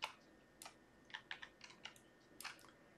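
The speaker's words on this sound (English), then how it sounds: "You can change colors by typing various keys to represent different color" A computer keyboard is typed on in short irregular bursts of crisp key clicks, quiet and close, with brief gaps between groups of presses and no talking.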